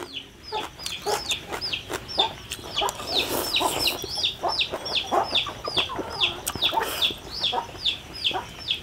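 Chickens forage in the rain, clucking in steady, repeated bursts over a continuous hiss of rainfall, close and moderately loud, with an occasional crowing note.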